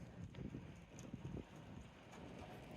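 Wind buffeting the microphones of a Google Pixel 7 Pro outdoors by a lake, a steady low rumble with irregular gusty bursts in the first second and a half, then settling into a softer continuous roar.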